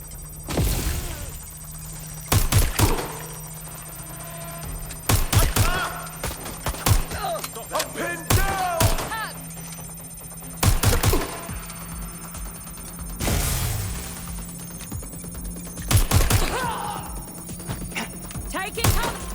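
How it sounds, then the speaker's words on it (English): Bursts of gunfire in the video game Watch Dogs Legion, several loud broadband volleys spaced across the scene, mixed with thuds, a low steady hum and occasional game voices. "Taking cover! Gunfire!"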